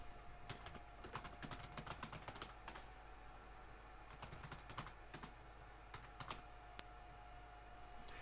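Typing on a computer keyboard, with quick clusters of soft key clicks separated by short pauses, close and quiet in an otherwise still room.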